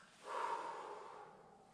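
A person imitates a horse's breath greeting with the mouth, one soft, breathy huff that swells quickly and trails off slowly, close and quiet with no talk.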